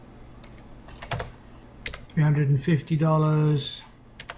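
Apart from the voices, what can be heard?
typing amounts on a computer keyboard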